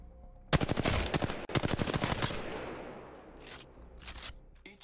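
Rapid automatic gunfire bursts in the Apex Legends battle royale game, two loud rattling volleys in quick succession followed by a decaying tail and a couple of fainter distant shots, with no talk.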